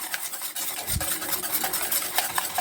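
Steady scraping and swishing of a utensil working ingredients in a pot, a continuous close rasp with a soft low thump near the start.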